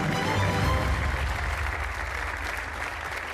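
Studio audience applause on a Portuguese TV game show, The Floor, a dense steady wash of clapping that fills the whole stretch and tapers slightly toward the end, with no voices over it.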